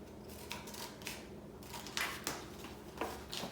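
Scissors snip through wallpaper in a quiet craft setting, a series of soft, crisp cuts spaced irregularly over a few seconds, close and faint.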